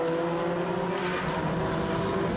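Fun Cup endurance race cars accelerate out of the Shell Oils hairpin at Oulton Park, a loud continuous droning engine note held close and steady without a break.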